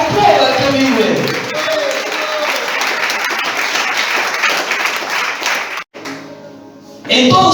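A church congregation breaks into loud, sustained applause that fills most of the moment, then cuts off abruptly before clapping swells again at the end.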